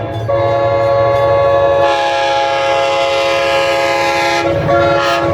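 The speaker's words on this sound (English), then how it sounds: "They have awesome horns" An NJ Transit diesel locomotive horn sounds, a loud, sustained multi-chime blast held for several seconds with a brief break before a final burst, with rail rumble underneath.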